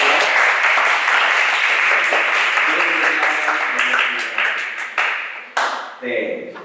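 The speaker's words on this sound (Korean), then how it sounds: "박수로 우리 같이 환영하도록 할게요" A church congregation at a Korean Sunday service in Detmold claps to welcome a returning visitor, loud sustained applause that thins into a few scattered final claps.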